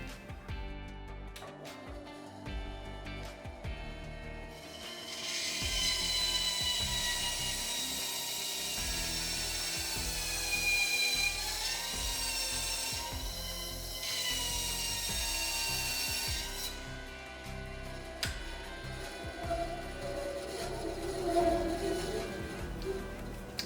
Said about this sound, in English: I'm going to attempt to cut out the handle profile on the bandsaw here